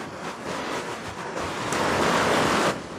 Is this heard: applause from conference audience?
no